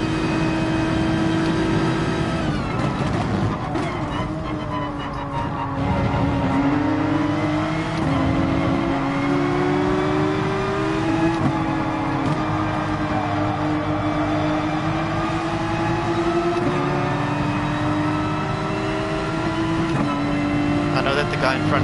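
A race car engine in the video game GT Sport revs and drones steadily throughout, pitch rising and falling with gear changes, while someone talks over it.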